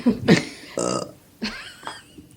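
A few close burps erupt in quick succession, loud and voiced, spread across a couple of seconds with short gaps between.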